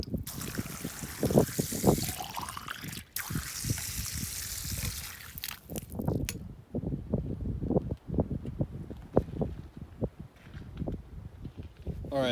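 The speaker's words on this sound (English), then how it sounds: "get these water bottles filled up so I have water" Water from a campground tap trickles and splashes into water bottles, starting with a steady rushing flow and moving to intermittent splashing pours, with a faint voice at moments.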